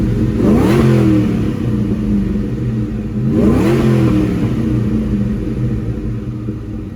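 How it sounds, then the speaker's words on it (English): A 2004 Ford Mustang SVT Cobra with a Borla exhaust revving up twice, each time a deep throaty rise in pitch and a drop back to a rumbling idle, loud and close. "Here it is getting revved up."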